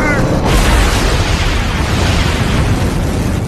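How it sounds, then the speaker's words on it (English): Ship rockets firing in Tales from the Borderlands, a loud continuous booming thrust roar that swells early and holds steady throughout. "Now turn them other rockets up to 11."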